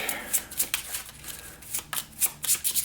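Playing cards for a board game being shuffled by hand, a run of quick crisp riffling bursts close up, repeated in an uneven rhythm with no talking.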